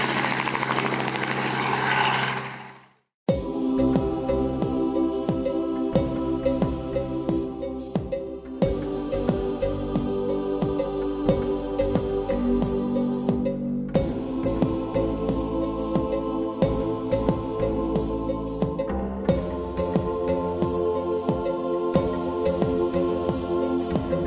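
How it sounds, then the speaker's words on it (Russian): A doorless helicopter flies over the Okavango Delta in Botswana, its rotor and engine roaring loud and steady with rhythmic blade chop throughout, after a brief burst of wind noise at the start. "Полет над дельтой Окаванго на вертолете без дверей – захватывающее приключение."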